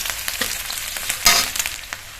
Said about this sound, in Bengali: পেঁয়াজ আর কাঁচা লঙ্কাটা হালকা একটু ভেজে নিয়েছি